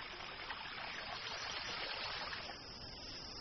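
Clear spring water flowing steadily at Baifu Spring in Longshan, Changping, Beijing, a constant broadband wash of streaming water that holds at an even level, with no voices.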